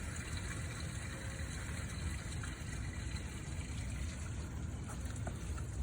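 Water drains steadily through an RV dump line, a continuous rushing, gushing flow heard close up for the whole stretch with no talking.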